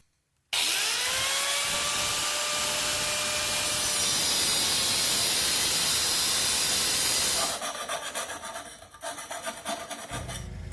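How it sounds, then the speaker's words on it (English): A power saw cutting through a metal exhaust extension pipe for a Flowmaster Super 44 muffler on a Jeep Cherokee XJ, a loud steady grinding hiss with ringing tones. It turns rougher and choppier near the end. "I've determined I have to cut 6 inches off of this extension piece"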